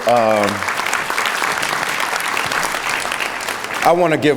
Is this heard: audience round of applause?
yes